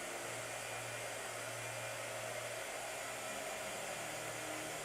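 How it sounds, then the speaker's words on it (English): A blow dryer runs steadily at close range while drying paint, producing a constant loud whooshing hum with a low motor drone underneath and no voices. "Blow dryer. Blow dryer."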